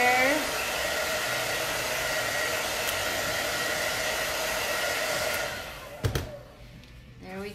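A blower or heat tool sends a steady, loud rush of air across wet paste on a transfer for flip flops, running continuously for about six seconds before cutting off with a brief clatter and a quieter tail.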